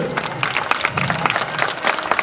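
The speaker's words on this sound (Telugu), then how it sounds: "గట్టిగా చప్పట్లు," Loud, dense applause from a crowd at a Hindu wedding ceremony during the mangalya dharana, steady rapid clapping filling the whole moment with no voices over it.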